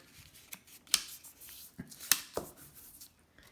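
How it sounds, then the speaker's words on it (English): Paper folded in half, with several soft crisp rustles and a few sharper creasing snaps over a quiet room. "I'm going to fold this over."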